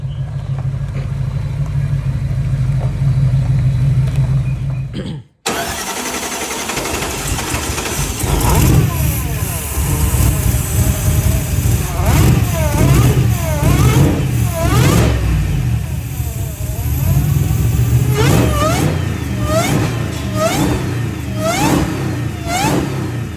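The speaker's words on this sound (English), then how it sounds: "we got Joe, our friend, tuning this tow truck here" A tow truck with a supercharged LS engine and Hellcat supercharger, under tuning, hums steadily and then cuts out abruptly. Repeated loud revs follow, climbing and falling in quick rising sweeps between rougher idle stretches, close and dominant.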